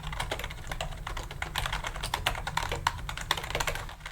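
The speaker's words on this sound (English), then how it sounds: "So let's just start by making a typing test." Rapid typing on a cheap membrane computer keyboard, a steady stream of soft, muffled key presses close up, with an even rhythm and no talking.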